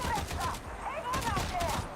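Bolt guns firing in Warhammer 40k Darktide, a rapid series of heavy, punchy projectile shots in close succession, dense and loud with ringing whines between bursts.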